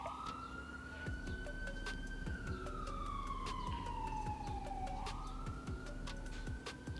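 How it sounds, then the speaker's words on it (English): A police car siren wails outside a house, a steady electronic tone sliding slowly down and back up over a constant low hum, loud and continuous throughout. "that is a police car outside my house."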